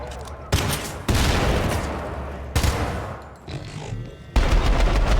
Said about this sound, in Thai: นี่เนี่ยกระสุนระเบิด